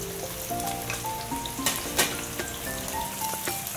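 Chopped carrots, beans and cauliflower stir-fried in a pan for veg dum biryani, a busy crackling sizzle with scattered spatula scrapes and clicks, steady and close.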